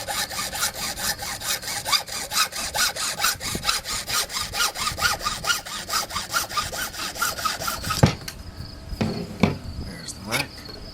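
Hand saw cutting through a piece of wood for a rink rake, a steady run of rapid rhythmic strokes up close for most of the stretch, then ending in a few scattered knocks and scrapes.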